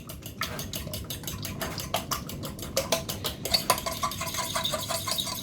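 Cracked eggs whisked in a bowl while cooking onion bhajis, a steady run of quick clinking strokes against the bowl, close and fairly loud, with a wetter, busier patch toward the end.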